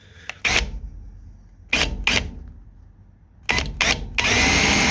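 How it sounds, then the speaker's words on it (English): A power drill with a 5mm bit whirs in three short bursts, separated by pauses, close and loud, grinding through metal on a Lotus Exige 390 Final Edition. "we're going to be drilling it out to 5mm"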